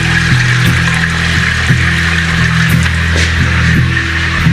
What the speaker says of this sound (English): we go quickly to the sink, because this will stick in there, and we fill that up with some soap and water